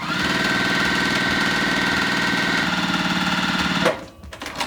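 A sewing machine runs fast and steady as it stitches down the side of a fabric strip, a loud continuous mechanical whir that slows briefly before stopping near the end.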